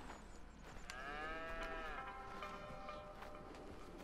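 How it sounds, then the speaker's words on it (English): Cattle on a ranch in the video game Red Dead Redemption, where one cow lets out a single drawn-out moo in the middle, heard clearly over a quiet outdoor background. "Here's the cows."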